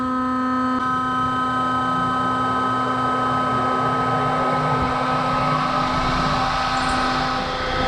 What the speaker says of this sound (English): I can come here and turn the spindle on.